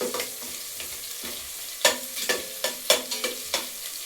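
Onion frying in a pan for tomato rice, a soft continuous sizzle broken by a series of sharp scraping stirs of a spoon against the pan in the second half, close and fairly quiet.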